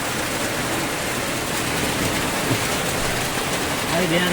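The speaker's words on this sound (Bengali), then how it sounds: "দেখুন খুব বৃষ্টি হচ্ছে জোরে জোরে" Heavy rain pouring down on a road, heard from inside a small electric rickshaw. A dense, steady roar of water fills the whole stretch, loud and continuous with no pauses.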